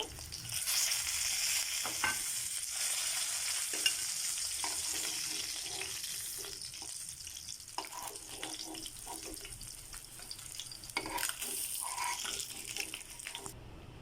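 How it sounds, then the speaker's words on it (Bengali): Rui fish pieces frying in a pan, a soft steady sizzle with intermittent clicks and light stirring or turning noises, fairly quiet and with no talk. "এখন আমি আরেক পাশ এগুলোকে ভালোভাবে ভেজে নেবো"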